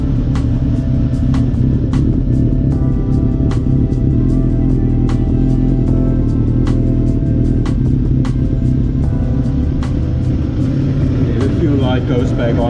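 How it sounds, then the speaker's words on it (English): A Suzuki GSX-R1000 K3 motorcycle engine idles steadily while warming up after a K&N air filter and block-off plate install, giving a continuous deep rumble with faint periodic ticks throughout. "Just letting it warm up now."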